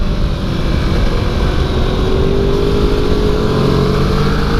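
Motorcycle on a racing circuit at New Hampshire Motor Speedway accelerating hard in third gear, a loud continuous engine drone with rising pitch, heard close over steady wind rush.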